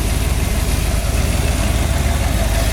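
A 1966 Ford Ranchero with a 302 V8, four-barrel carburetor, headers and dual exhaust idles close by, making a loud, steady low rumble with an even pulsing beat and no talking.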